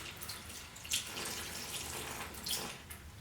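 Tap water runs steadily from a faucet to wet a large powder brush, making a continuous soft splashing hiss with a couple of brief louder splashes as the brush meets the stream.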